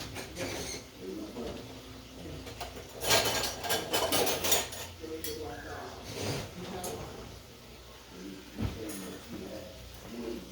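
Knife and fork for carving a barbecued turkey being fetched and handled indoors, with clinks, creaks and clatter of cutlery and kitchen items, a few louder knocks near the middle and end, and someone talking intermittently.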